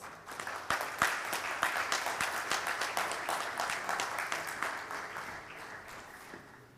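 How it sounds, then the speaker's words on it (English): A conference audience applauds to welcome a speaker, moderately distant clapping with distinct sharp claps over a steady wash, holding evenly and then tapering at the end. "Please welcome Mr. Abbas with a big round of applause."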